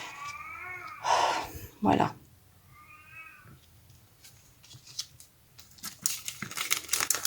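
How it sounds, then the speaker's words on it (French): A pet cat meows in a few short calls under the sound of someone making a paper card, with cutting and crinkling noises and a brief spoken word nearby. "Vous entendez mon chat qui miaule, c'est normal."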